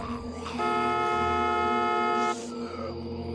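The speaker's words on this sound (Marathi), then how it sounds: "पण तेव्हाच कर्कश हॉर्न वाजला" A car rushes forward with bright headlights on a night road and gives one harsh, sustained horn blast lasting nearly two seconds over a steady low rumble.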